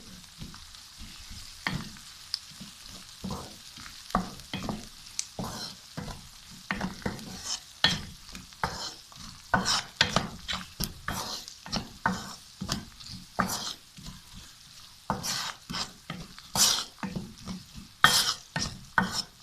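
Spices and onions for khageena are stirred together in a pan, a quick run of sharp scraping and clattering strokes over a faint sizzle, close and rhythmic with short pauses.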